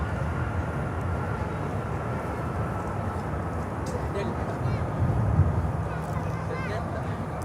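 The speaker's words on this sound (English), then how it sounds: "And we are here with this beauty here from London Heathrow, American Airlines" American Airlines Boeing 777-300 jet in from London Heathrow at Miami airport, a moderate, continuous low engine rumble that swells slightly toward the end, with a voice talking over it.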